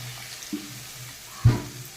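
Spice paste for a small fish curry sizzles faintly in a hot pan as a splash of water goes in, with a soft stir early on and a brief, louder hiss about midway.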